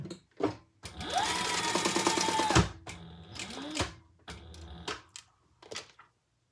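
Sewing machine stitching 3/4-inch D-rings together at the bottom of a black and leopard mini crossbody bag, a steady close whirring run of about two seconds, then shorter start-stop bursts of stitching.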